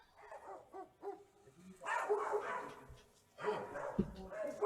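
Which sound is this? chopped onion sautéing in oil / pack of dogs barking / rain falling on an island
pack of dogs barking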